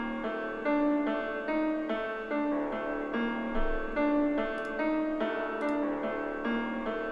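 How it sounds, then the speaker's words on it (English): Simple low piano notes playing a sparse melodic part in a hip-hop beat, sustained chords with steady rhythm alone at moderate volume. "this is what the piano sounds like now"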